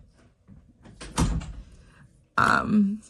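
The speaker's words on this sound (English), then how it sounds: "Can you close the door all the way, please?" A door is shut indoors: a sharp, thudding knock near mid-clip, then a louder, abrupt burst that carries into the end with muffled voice-like sound.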